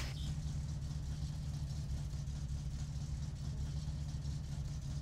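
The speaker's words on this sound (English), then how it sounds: "So let's fire it up and see if she idles a bit better." A car engine idles steadily in the game My Summer Car, with a low, even rumble and a faint hum above it, continuous and unchanging throughout, with no talk.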